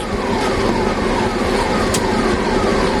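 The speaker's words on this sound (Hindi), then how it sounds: "इस असुरन चौराहे का आप ट्रैफिक देखिए।" Busy traffic at the Asuran intersection in Gorakhpur, a dense constant roar of engines and passing vehicles with a faint siren-like tone rising briefly, loud and unbroken with no voices.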